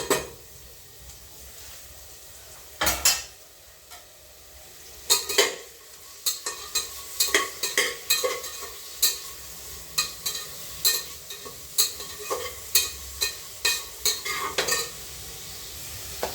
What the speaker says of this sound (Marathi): तर मित्रांनो, या ठिकाणी कांदा तुम्ही बघू शकता बऱ्यापैकी फ्राय होतो आहे.